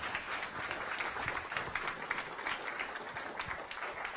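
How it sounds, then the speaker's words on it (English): Audience applause at a science cafe talk on nanotechnology, a steady wash of many hands clapping at moderate distance, fairly even throughout. "Let's give Mark a round of applause."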